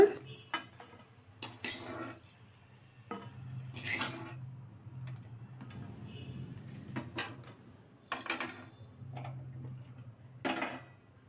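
Quiet, intermittent clinks and scrapes of a utensil against a pan and plate as fried food is lifted out, with pauses between.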